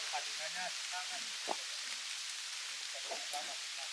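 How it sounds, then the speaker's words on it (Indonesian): Heavy rain falls on forest trees along a mountain trail on Gunung Buthak, a steady soft hiss of drops on leaves that continues under people talking nearby. "Ini kondisi hujan deras"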